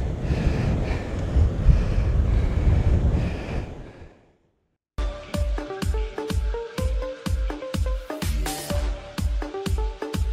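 Waves wash in over a sand and shingle beach under gusting wind noise for about four seconds, then after a brief silence a different stretch of regular, rhythmic clicking bursts follows.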